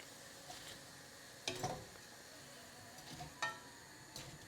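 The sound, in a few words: vegetable balls frying in oil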